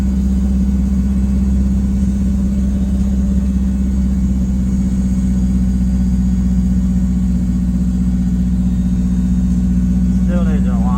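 A car on a neighborhood test drive after a rear differential swap, heard as a loud, steady engine drone and road rumble from inside, with a voice briefly at the end.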